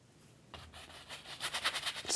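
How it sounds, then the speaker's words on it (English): A paintbrush scrubbing and blending paint on canvas for a soft winter mountain scene, a rhythmic dry rubbing that starts after a quiet moment and grows louder, with short quick strokes close by. "Scrub it in and blend it."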